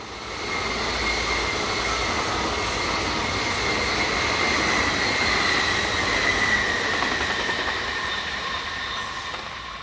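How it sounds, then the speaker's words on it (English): Two Class 502 electric units, an 8-car and a 4-car set, run through on a service for Lausanne with a loud, sustained rumble of wheels and a high, ringing squeal held steady from start to finish. "In this view we have recently introduced Class 502 units, the first an 8-car set and the second a 4-car set, seen on a train for Lausanne."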